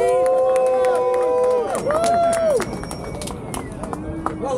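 A crowd at a car club's first rideout gathering cheers and whoops with high, sliding voices over a dense babble of people, loud and close, fading into general murmur.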